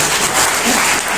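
Short burst of applause from a seminar audience on eco farming, a dense steady patter of many hands clapping at moderate loudness with no one speaking.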